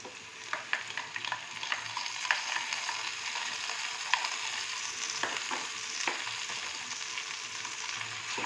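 Onion, tomato and dried red chilli fry in a pan as whipped sour yogurt is stirred in, giving a continuous soft sizzle broken by repeated scraping clicks of a spoon against the pan.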